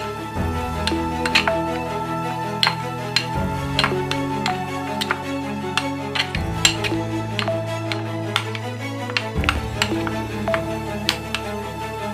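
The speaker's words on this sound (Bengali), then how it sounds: "এবার এটাকে ভালো করে মিশিয়ে নিচ্ছি।" A spoon clinks against a pan while ginger paste is stirred into egg rezala, giving repeated metallic taps and scrapes in a steady rhythm over a low background tone, close and clear.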